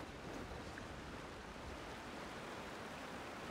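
A waterfall in Genshin Impact rushes with a constant, dense hiss of falling water, steady and loud throughout with no breaks.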